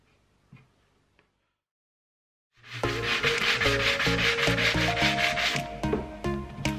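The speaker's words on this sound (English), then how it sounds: "With all these holes filled and sanded" Wooden shelves with filled holes being sanded, a steady loud rhythmic rasping scrub that starts after a couple of seconds of near silence with faint clicks, then runs continuously to the end.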